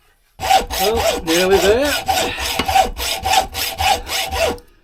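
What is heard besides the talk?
hacksaw sawing metal for a button die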